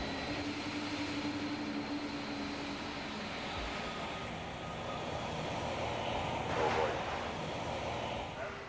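Jet engines of a Boeing 777 on a runway during early flight testing, heard as a steady broad roar with tonal whine that swells slightly near the end, with narration over the top.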